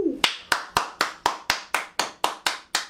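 Evenly spaced hand claps, about eleven sharp strikes at a steady rhythm, close and fairly loud with no voices.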